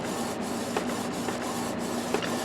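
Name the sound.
Canon TS9520 printer printing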